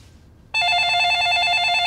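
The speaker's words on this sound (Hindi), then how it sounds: "अरे फोन मत उठा" Telephone ringing indoors, an electronic ring that starts abruptly after a quiet moment and continues loud and steady without pause.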